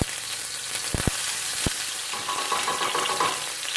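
Garlic sizzling in a hot stir-fry pan for a basil eggplant stir fry: a steady, bright crackling hiss runs throughout, broken by a few sharp clanks near the start and busier spattering toward the end, with no voices.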